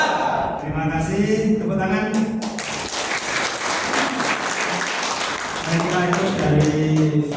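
An audience claps at a KOKAM religious gathering, with a burst of applause swelling in the middle and voices talking before and after it.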